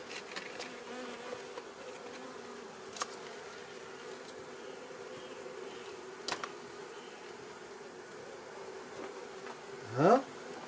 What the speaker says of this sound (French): il faut que je remette des abeilles